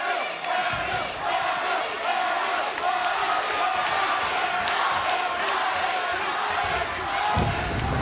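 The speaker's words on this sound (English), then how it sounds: "Crowd at Victory Road" Wrestling crowd at the TNA Victory Road event, a dense roar of cheering and shouting from a large arena audience that stays loud and steady throughout.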